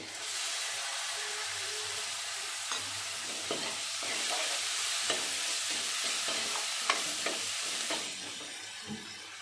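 Prawn malai curry with salt and a ground coriander, cumin and chili paste being stirred in a pan, giving a steady hissing sizzle broken by repeated scraping strokes of the spoon, close and moderately loud, with no talking.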